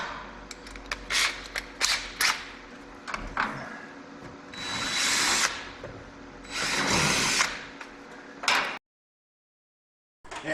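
A power drill enlarges a slightly undersized hole for thread inserts during an LT engine fuel system install on a 1965 Pontiac Safari wagon, whirring in a few loud bursts among clicks and handling noise, then stopping.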